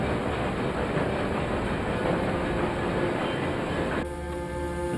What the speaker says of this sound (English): The train's gears grind to a halt.